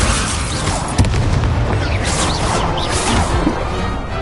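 An Incendio fire spell blasts in the Hogwarts Legacy video game: a loud, dense, roaring burst with a sharp hit near the start, sustained as a rumbling fiery wash throughout.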